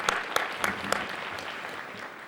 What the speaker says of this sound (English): Round of applause for the mayor.